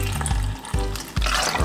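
Water poured into a blender holding strawberries: a steady, close gush of liquid with a few brief breaks, loud and alone.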